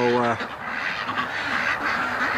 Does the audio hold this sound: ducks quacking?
yes